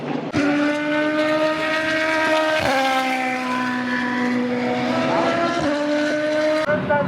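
Super GT race cars at Fuji Speedway in Japan scream past, a loud, near, sustained high-revving engine whine with abrupt pitch drops as gears shift.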